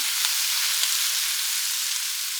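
Gluten-free all-purpose flour is stirred into hot meat juices in a pan, producing a steady, close hissing sizzle with soft scraping spoon strokes beneath it, loud and continuous, without speech.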